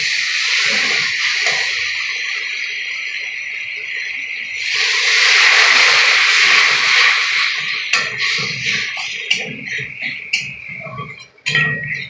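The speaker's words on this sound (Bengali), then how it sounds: "এবার আমি জল দিয়ে দেবো।" Water poured into a pan of well-fried spice masala for katla fish curry, a steady hissing sizzle and slosh that swells loudly midway before breaking into crackling bubbles and clinks.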